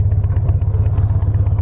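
A Harley-Davidson Softail cruiser rumbles along at a steady pace, its deep engine throbbing in a fast, even pulse, loud and close with no voices over it.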